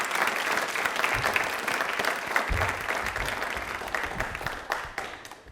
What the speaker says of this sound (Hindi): एक बार तालियां जोरदार हो जाए डॉक्टर साहब के लिए।